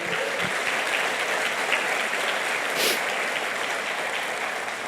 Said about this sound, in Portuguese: Vamos aplaudir o Senhor por isso.